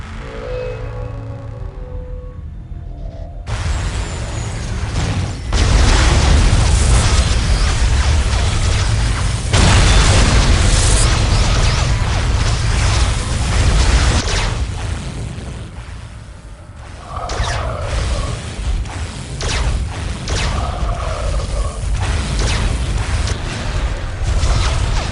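Explosions and cannon fire in a Warhammer 40000: Dawn of War Soulstorm battle on a coastal map, with loud booms, rumbling blasts and whooshing shots layered continuously, broken by brief lulls and mechanical clanks.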